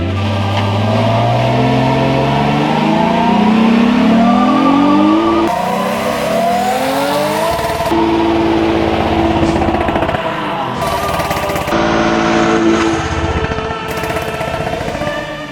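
A 1972 Dodge Dart Swinger's engine roars loudly during a massive burnout, revving up repeatedly in rising sweeps with abrupt shifts in pitch, close and continuous.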